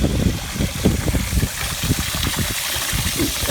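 Machinery hum and steady rushing water at a small hydro plant with hot bore water in the outback, a continuous loud low rumble with broadband wash and no pauses.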